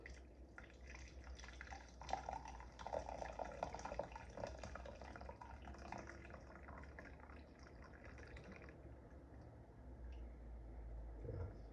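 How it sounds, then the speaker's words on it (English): Cinnamon liquid for a Caribbean recipe is poured through a kitchen strainer, giving a soft, steady trickle and drip of liquid that runs quietly throughout with no voices. "So what you can do is strain it, run it through your strainer."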